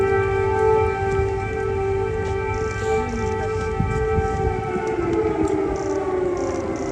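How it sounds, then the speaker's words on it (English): Air raid sirens wail steadily in Kyiv, long sustained tones that slowly bend downward near the end, loud and continuous over a rumbling background. "air sirens went off repeatedly"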